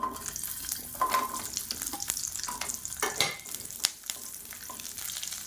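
About fifteen whole small shallots and a few pieces of asafoetida fry in hot oil, a soft crackling sizzle punctuated by sharp clinks and scrapes of a spoon stirring in the pan, with no voices.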